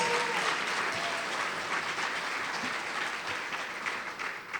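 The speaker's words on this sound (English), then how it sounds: "Let's give everyone another round of applause." Audience applause at an evening staff recognition event, with full, continuous clapping from a large room that starts strong and gradually thins out toward the end.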